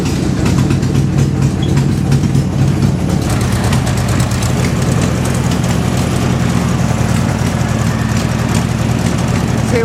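The air-cooled engine of a 1972 Volkswagen Beetle custom trike runs at a steady, loud, close idle with a low throbbing rumble for the whole stretch, and a voice speaks briefly over it.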